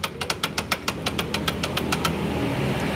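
Repeated rhythmic clunking from a car drivetrain while the engine turns the rear wheels, about a dozen evenly spaced knocks over a running engine, then fading into a steady mechanical hum.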